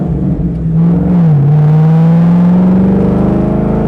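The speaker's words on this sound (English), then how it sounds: "Again, I am just barely touching the accelerator." A 1965 Shelby Daytona engine revs under a barely pressed accelerator, a close, steady, loud burble whose pitch dips briefly and then climbs slowly, with no voices.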